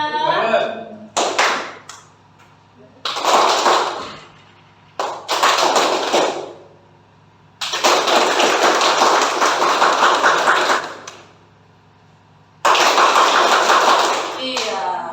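A room of teachers performing a group clapping exercise, with several separate bursts of fast, dense clapping of varying length, separated by short pauses where a voice leads them.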